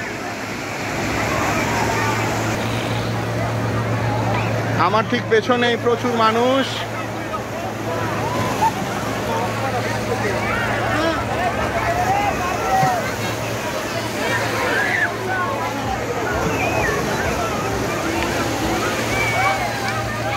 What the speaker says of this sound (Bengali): দেখুন, বিশাল ঢেউ সাগরে আছড়ে পড়ছে